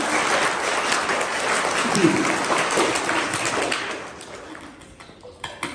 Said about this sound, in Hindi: तो जोरदार तालियों से थैंक यू सबका करना।